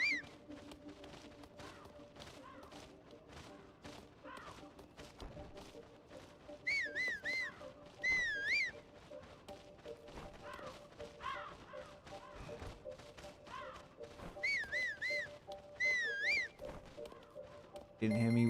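Link whistling in Tears of the Kingdom, a melodic warbling whistle phrase repeated in short bursts, two pairs of rising and falling notes, over quiet game ambience with footsteps and thumps.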